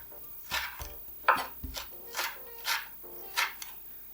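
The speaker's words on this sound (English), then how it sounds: "The way you cut this pepper is you first cut it half, and then you chop it into slice." A knife slices through a pepper on a cutting board in a loose series of soft thuds and crisp cuts, close and quiet, with brief pauses between strokes.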